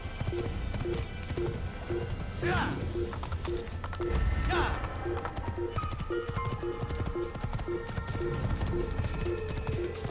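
Horse hooves clip-clopping in a steady rhythm during a ride in the Assassin's Creed video game, moderately loud, with a couple of brief whooshes and people talking over it.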